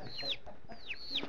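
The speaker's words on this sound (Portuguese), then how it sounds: "Ó a galinha rosa." A hen calling softly in a couple of short, rising clucks with descending squawk-like tails, fairly quiet and close, with no one talking over it.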